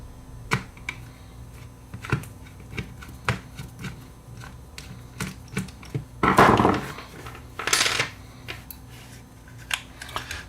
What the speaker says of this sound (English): We'll just put this thing back together now